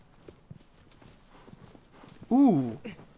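Horse hooves clip-clop in the Shadow of the Colossus remake, a light string of soft footfalls, followed by a loud, sharp neigh near the end.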